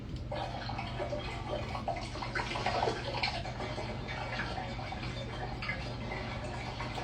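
A faint water sound effect sample for liquid organic growth: gentle sloshing, trickling and dripping, steady and low in level with no talking.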